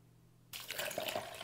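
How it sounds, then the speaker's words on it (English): Distilled water is poured from a cup, starting abruptly after a short quiet pause as a close, steady splashing stream with small bubbling drips. "grab our distilled water, slowly pour it."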